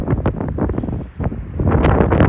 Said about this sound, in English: It's really windy and really rainy